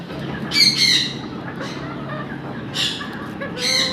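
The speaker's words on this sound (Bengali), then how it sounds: "অসাধারণ মুরগি দেখতে পাচ্ছেন এটা হলো মুরগিটা" A fancy-breed hen at a farm gives loud, harsh squawking calls in several bursts, with softer clucking and farmyard noise in between.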